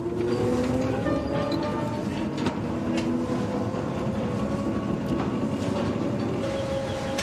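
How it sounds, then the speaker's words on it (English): An underground mine train carries miners more than 800 metres below the surface, rumbling loudly and steadily with a dense low roar, metallic squeals and occasional rail clicks throughout. "the miners board a train that travels a further 4 miles into the dark"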